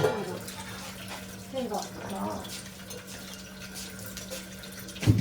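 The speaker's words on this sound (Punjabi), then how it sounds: "ਪਾਣੀ ਤੇਰਾ ਭਰਤੀ ਆ ਬੋਤਲ ਤੱਤਾ ਕਰਕੇ" Hot water runs steadily into a bottle, a constant gushing stream under occasional nearby voices.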